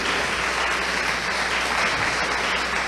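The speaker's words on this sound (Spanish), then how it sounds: "un aplauso para ella" A church audience at a Bible institute testimony gathering applauds a speaker with steady, dense clapping that fills the room evenly from start to finish, without talk over it.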